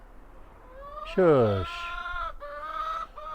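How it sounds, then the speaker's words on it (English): Chickens squawk and cluck loudly nearby, one sharp burst of squawking standing out, while a person briefly hushes them. "more noisy chickens"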